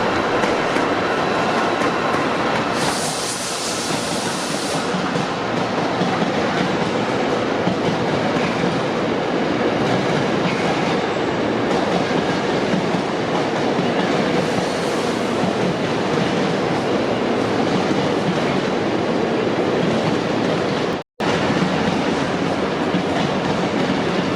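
Train at Carlisle station, a loud continuous rumble of rolling wheels and rail noise close by, with a bright hiss early on and a brief dropout near the end, no voices.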